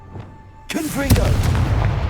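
Confringo blasting spell going off in Hogwarts Legacy, a sudden loud explosive blast with a second sharp crack right after it, then a sustained rumbling roar that carries on to the end.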